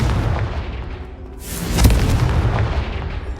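A Confringo fire spell goes off in the video game Hogwarts Legacy as a loud, booming blast with a sharp burst at its peak, over a continuous rumbling game background.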